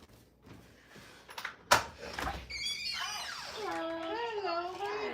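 A house door opens to greet a visitor: soft shuffling, then a single sharp thunk of the latch and door. A voice follows immediately and continues loudly over the rest.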